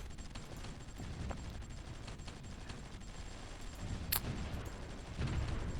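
Anti-tank units trade fire in a strategy war game, a steady rattle of small-arms bursts with scattered sharp shots and one brighter crack near the end, fairly faint and continuous throughout.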